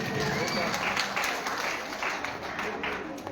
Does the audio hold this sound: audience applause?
yes